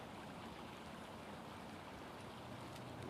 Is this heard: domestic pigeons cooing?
no